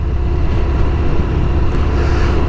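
Motorcycle being ridden outdoors on a cool day in the 50s: loud, steady engine drone with wind rush filling the whole stretch, no speech.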